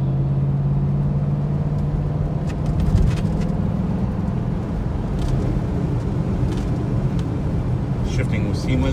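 A 1986 Mercedes-Benz 560SL accelerates through the gears on an interstate, its engine a steady low drone beneath road and wind noise, with cabin rumble throughout the run.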